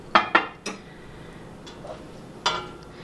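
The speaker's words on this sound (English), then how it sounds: "Now all I'm going to do is add 1 cup of the sauce. And just kind of mix this together until it's all nice and combined." A utensil clinks against a dish while drained tortellini are gently mixed with sauce, a few sharp close knocks at first, then a quieter wet scrape and one more clink.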